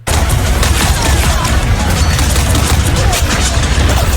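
Dense, loud gunfire and explosive booms from a Marvel Rivals game trailer fill the whole stretch without a break, with voices faintly mixed under the barrage.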